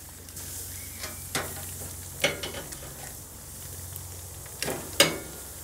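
Pork secreto steak sizzles in a hot pan with a steady low fry hiss, broken by several sharp scraping clacks of the meat being turned, moderately close and without talk.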